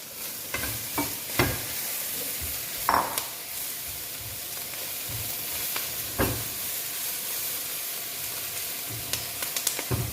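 Mushrooms and broccoli hit a hot pan and sizzle steadily with a bright hiss, broken by occasional louder scrapes and stirring clatters, close and with no voices.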